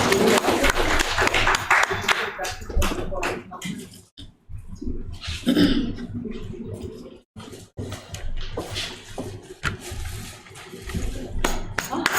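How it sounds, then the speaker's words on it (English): Students applaud at an institute welcome event, a loud burst of clapping that comes in waves with brief pauses, taking up the whole stretch. "Please have a round of applause, dear students."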